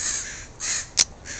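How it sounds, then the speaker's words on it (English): Crows cawing outdoors in a wild forage area, three harsh caws in quick succession, loud and fairly close, with no talk over them. "The crows are real happy right now."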